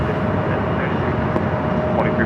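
A plane at LAX rolling for takeoff, a loud steady engine roar that lasts throughout, with an airport radio voice talking over it.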